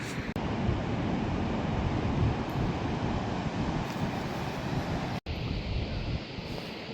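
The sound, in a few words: ocean waves and wind on Moroccan coast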